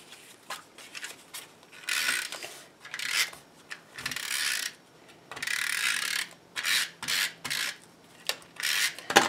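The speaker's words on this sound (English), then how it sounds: "Some snail adhesive on the back of our curtain panel." A snail adhesive tape runner is pressed and drawn across the back of a card panel, making close, dry, raspy rubbing strokes with small ratcheting clicks in a quick irregular series.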